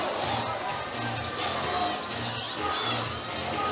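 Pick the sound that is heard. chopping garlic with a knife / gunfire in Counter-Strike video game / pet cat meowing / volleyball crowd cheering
volleyball crowd cheering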